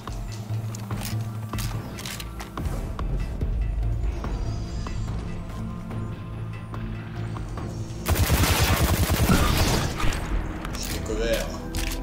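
Gunfire from the shooter game Destiny 2 rattles under ongoing speech and game noise, rising into a dense, loud burst of rapid shots near the end.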